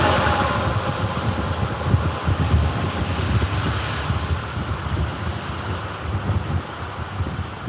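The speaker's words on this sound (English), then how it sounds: "that wind blowing, man" Wind blowing outdoors in Thailand, a continuous rushing roar with gusty buffeting against the microphone, steady for several seconds with no voices.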